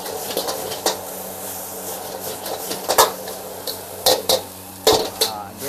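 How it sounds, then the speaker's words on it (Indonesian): A spatula scrapes and knocks against a pan while Malay village fried rice (nasi goreng kampung) is stir-fried: irregular clanks and scrapes over a steady sizzling hiss, close up, with no talk. "Nasi goreng ni kita kena goreng lama sikit"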